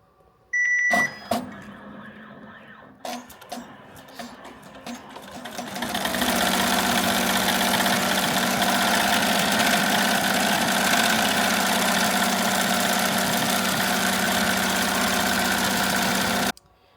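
An embroidery machine stitches a metallic-look design with no metallic thread. After a few clicks and beeps, a loud, steady, close mechanical chatter runs for about ten seconds and then stops abruptly.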